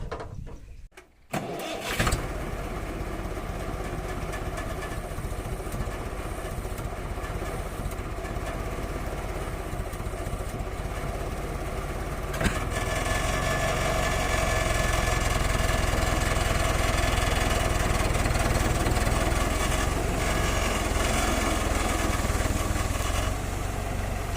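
A farm tractor loaded with fodder cranks and catches after a brief pause, then settles into a loud, steady diesel idle and run that grows slightly heavier midway, with no talk over it.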